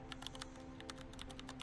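Quiet, irregular clicks of a computer keyboard as data is typed into an Excel spreadsheet, a steady run of soft keystrokes over a low background hum.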